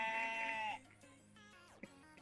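A sheep in a farm video game gives one clear, drawn-out bleat, close and loud, then fades into quiet background music with a soft thump near the end.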